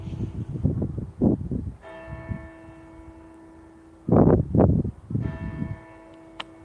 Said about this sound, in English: Let's let these bells ring out